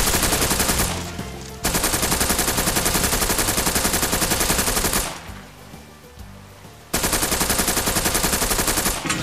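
Rapid automatic gunfire from the VR shooter Dick Wilde 2, played with an aim controller, loud and continuous in long sustained bursts, breaking off briefly twice before resuming.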